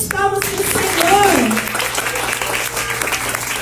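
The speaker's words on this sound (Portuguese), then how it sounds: "Dá uma salva de palmas para o Senhor" A children's church group breaks into lively applause for the Lord, a sustained patter of many small hands clapping close by, with voices and excited speech mixed in throughout.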